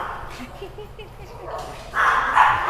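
Dogs kept together in an air-conditioned room bark and yip in short bursts, moderately close, over a steady hum, with a louder, noisier burst in the last second.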